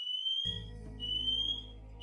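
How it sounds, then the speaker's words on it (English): A smoke or fire alarm going off indoors, repeating high electronic beeps in two bursts over a low steady hum, fairly loud and without speech. "Who set off the fire alarm?"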